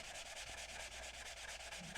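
Very light hand sanding of scratches with 320 grit sandpaper on a Tucker XL model car, a soft, steady, rhythmic rubbing stroke repeated close up and at low level.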